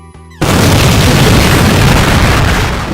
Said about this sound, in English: edit in our crappy GIF explosion over that